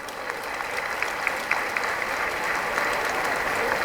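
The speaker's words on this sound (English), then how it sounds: "I think she deserves a round of applause." An audience at a university honours ceremony breaks into steady, dense applause, loud and continuous throughout without talk.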